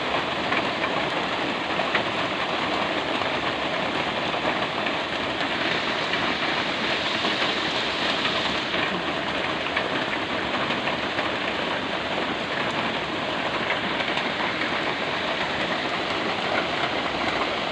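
Heavy rain pours continuously in a dense, steady roar of hiss and patter that never lets up.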